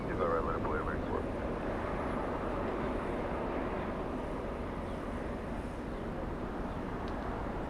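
A jet airliner rolls and climbs on takeoff from runway 25 right at Los Angeles International Airport, its broad engine roar steady and moderately distant, with faint radio chatter and talk in the background.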